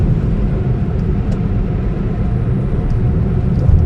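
A £200 Smart car with spongy brakes cruising at about 50 mph, a steady loud engine and road drone with continuous low rumble and no voices.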